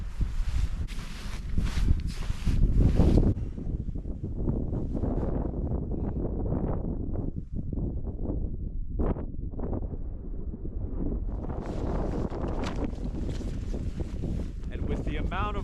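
Strong winter wind in the mountains roars and buffets the microphone in loud rushing gusts that rise and fall, with a person talking under the noise in places.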